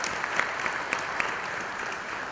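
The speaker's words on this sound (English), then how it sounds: "Please give a round of applause." An audience claps for a panel speaker at a conference on innovation, giving brief, dense, steady applause at moderate level with a few sharper claps standing out.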